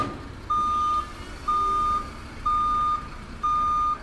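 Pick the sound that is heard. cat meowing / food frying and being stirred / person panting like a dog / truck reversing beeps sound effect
truck reversing beeps sound effect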